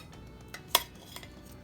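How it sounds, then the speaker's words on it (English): Beef short ribs and vegetables from a pressure cooker being plated, with soft clinks of cutlery on a dish and one sharper clack, close and quiet, with no talking. "now I'm gonna start plating"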